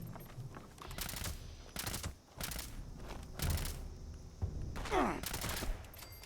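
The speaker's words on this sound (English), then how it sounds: "someone's shooting me from above" Gunfire in the video game Fallout 76, with a series of sharp bursts and bangs arriving at irregular intervals over a low ambient bed, fairly quiet overall, with a faint voice briefly audible among the shots.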